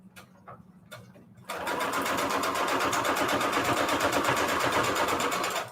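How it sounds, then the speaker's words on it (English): A sewing machine runs a straight stitch across a paper pocket made from scraps for a junk journal, a steady close whirring hum that starts after a few faint handling taps and continues loud and unbroken. "Just did a straight stitch to sew that on."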